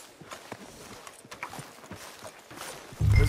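Horse hooves clip-clopping at a walk in Red Dead Redemption 2, a steady light rhythm of hoofbeats on a town street, fairly faint, ending in a sudden louder low thud.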